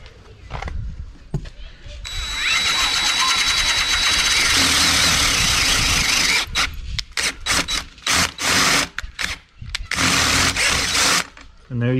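A power drill with a half-inch bit bores through a trolling motor shaft in a loud, continuous grinding whine lasting several seconds, followed by shorter bursts of drilling and scraping.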